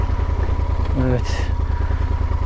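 A motorcycle engine idles steadily on a muddy outing, a constant close low rumble throughout with a brief voice over it.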